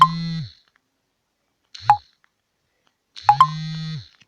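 A charging mobile phone gives three separate electronic beeps, each a tonal chirp with a low hum beneath, spaced well apart and loud and close in an otherwise silent room.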